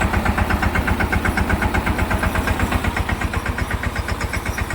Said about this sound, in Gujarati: આપણે દવાનો ટાંકો અત્યારે ટ્રેક્ટર હાલે છે 10 ઉપર